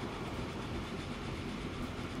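A steel freight train in Transport Fever 2 rolls along steadily, a continuous low rumble of wheels and rail noise at moderate distance with no talking.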